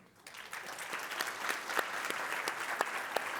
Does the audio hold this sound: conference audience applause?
yes